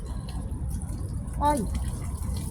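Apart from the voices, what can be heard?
hot water running from a tap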